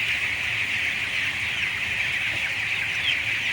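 Poultry on a chicken farm, chicks around feed and water nipple drinkers, make a dense, steady chorus of high peeping with no talk, continuous and fairly loud throughout.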